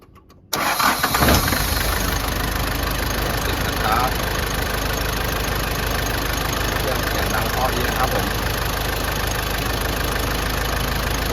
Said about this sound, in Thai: เดี๋ยวฟังเสียงเครื่องกันนิดนึงนะครับ